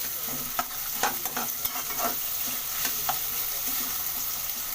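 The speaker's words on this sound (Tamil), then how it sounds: "நல்லா வெந்த உடனே வெங்காயத்தை பொன்னிறமாக வர வரைக்கும் நல்லா வதக்கணும்" Onions fry in hot oil toward golden brown as a spoon stirs them around the pan, a steady close sizzle broken by repeated scraping strokes.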